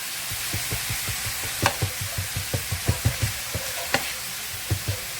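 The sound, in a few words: cheesesteak filling sizzling in a pan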